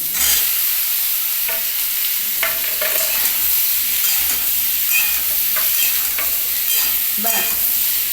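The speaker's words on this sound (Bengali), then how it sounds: "এটা ভাজা হতে থাকুক" Bottle gourd fries loudly in a pan alongside ginger and bitter gourd, a constant close sizzle broken by occasional scraping stirs, with no talking.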